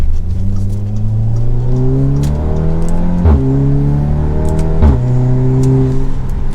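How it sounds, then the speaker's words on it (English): Audi S3 or VW Golf R accelerating hard on twisty roads, the engine note climbing steadily through the gears with two quick shifts, close and loud with no talk. "Play with the car on a few little twisties."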